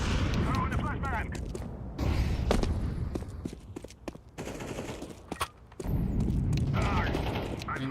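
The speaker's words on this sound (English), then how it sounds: "I'm throwing a flashbang." Counter-Strike 2 match with a flashbang grenade thrown: sharp bursts and pops of gunfire and a loud bang stand out among voices talking, with brief quiet gaps between clusters of blasts.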